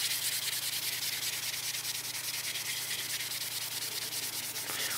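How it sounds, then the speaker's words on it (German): Steel wool wrapped around magnets scrubs steadily across a circuit board, making a continuous, even, rasping scratch that stays close and constant for the whole stretch with no talking. "packt die Stahlwolle da drum ein. So, da fährt man da drüber."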